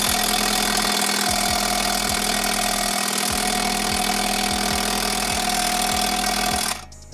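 An impact wrench hammers loudly and close at a bolt on a MINI Cooper brake caliper, bursts of rapid rattling broken by short pauses, over a steady mechanical drone that cuts off near the end.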